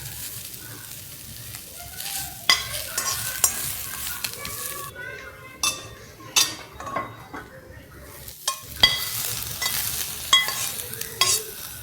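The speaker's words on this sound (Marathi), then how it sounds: "कोबी चिरलेला, कांदा सगळं परतून घ्यायचं चांगलं." Chopped cabbage and onion stir-fried for hakka noodles, with a spatula scraping and clinking against the pan in irregular strokes over a low sizzle, close and moderately loud, no talking.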